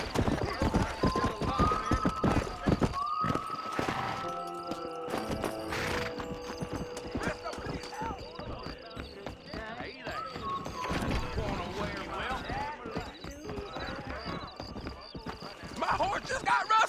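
A horse in Red Dead Redemption gallops with steady, rapid hoofbeats and gives loud neighs, alongside game noises and someone talking.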